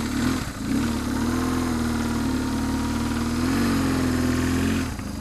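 A motorcycle engine idles with a steady low rumble for several seconds, then cuts off abruptly near the end as the kill switch shuts it off, leaving the bike in gear.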